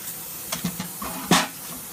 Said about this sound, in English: We're going to spray her down.